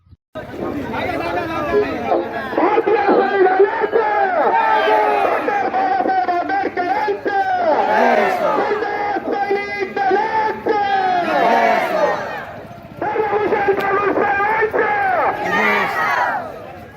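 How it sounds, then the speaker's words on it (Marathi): A large crowd at a Constitution-defence protest march in Chalisgaon chants slogans loudly and continuously, many voices rising and falling together in rhythmic call-and-response waves, with a short lull before the chanting resumes. "संविधान बचाव मोर्चाला प्रचंड गर्दी घोषणांनी चाळीसगाव दणानले"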